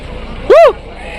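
One loud, close bleat rises and falls in pitch for about a quarter second at the Rajarampalli animal market where goats and sheep are traded, set against a low murmur of crowd and traffic.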